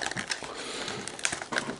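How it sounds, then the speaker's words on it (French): Packing tape being pulled off a Yu-Gi-Oh Gold Maximum card box, a short run of crackly, crinkling rips and snaps, close and fairly quiet, with no talking. "peut-être arracher scotch directement."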